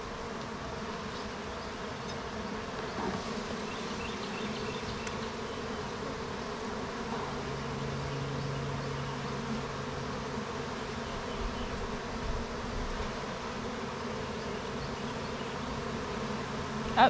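Honey bees hum in a dense, steady drone around an opened hive during an inspection, the buzzing continuous and close throughout with no talk.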